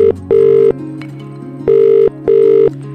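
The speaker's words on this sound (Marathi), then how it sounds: "मला फोन आला" A telephone rings close and loud in three even electronic bursts separated by short pauses.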